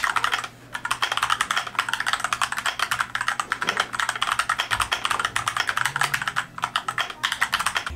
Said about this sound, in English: First is the Keychron K4 mechanical keyboard.